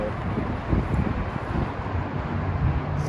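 Steady wind buffets the microphone with a low rumbling roar, gusting slightly but continuous throughout.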